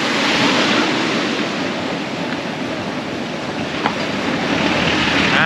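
Steady ocean surf washes continuously onto sandy Pipa beach at high tide, a broad, even roar with light wind buffeting the microphone and no voices.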